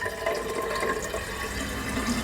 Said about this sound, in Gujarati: આપણે પાણી બોટલ ભરી લઈએ